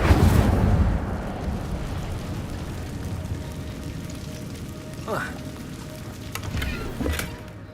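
An Incendio fire spell cast in the game Hogwarts Legacy bursts out with a loud roaring whoosh, then settles into a steady crackling, hissing flame with a few brief sharp flares.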